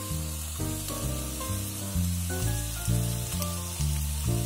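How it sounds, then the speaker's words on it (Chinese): Butter sizzles in a pan with pan-seared golden scallops, a soft steady hiss running beneath loud background music that dominates throughout. "我们加入黄油，黄油切成小片，翻开，一点一点撒入。"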